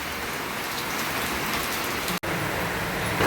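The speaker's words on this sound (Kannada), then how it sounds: "ಜೋರು ಮಳೆ ಬರಕತ್ತೈತ್ರಿ." Heavy rain pours down in a village on a monsoon evening, a dense, steady patter drumming on surfaces with only a split-second dropout midway.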